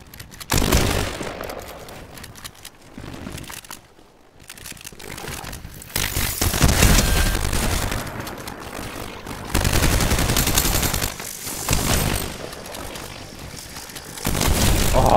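Gunfire in the video game Fortnite, bursts of rapid automatic shots and droning engine-like noise in loud stretches separated by quieter gaps.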